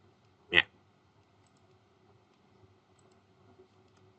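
A single sharp computer mouse click sounds close and crisp while working in Adobe Illustrator, followed by near silence with only a faint low room hum.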